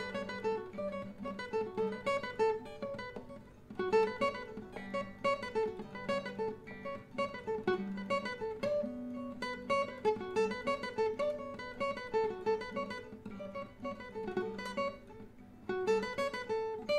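The main riff of a song plays on guitar as a quick, bouncy run of repeating picked notes, fairly quiet and alone with no voice.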